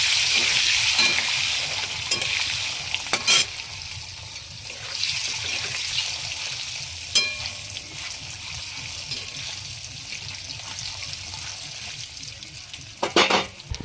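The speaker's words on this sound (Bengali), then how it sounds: "হালকা করে ডিমটা ভেজে নেব লবণ হলুদ দিয়ে।" An egg fries in hot oil in a pan with salt and turmeric, a continuous close sizzle broken by a few sharp spatula scrapes and knocks against the pan.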